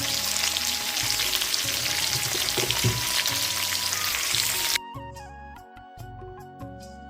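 Red, yellow and green bell peppers frying in a pan for homemade fried rice, a dense steady sizzle that suddenly drops to a quieter crackle with a few clinks, no talk.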